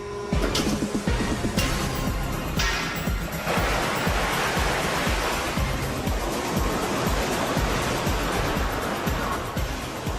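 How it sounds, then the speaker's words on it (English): An artificial wave in a wave pool crashes and breaks into a loud, sustained rush of churning water that continues unbroken, close and powerful. "After the wave has broken, the water spills into the surrounding drains"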